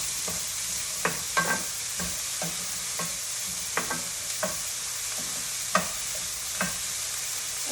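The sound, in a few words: vegetables sizzling and browning in a pan for lomo saltado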